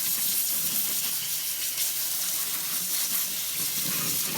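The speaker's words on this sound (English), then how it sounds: "And first I'm just gonna spray it off really, really well." Water spraying steadily over an aloe plant at a sink, a continuous close hiss with no breaks, fairly loud and unchanging.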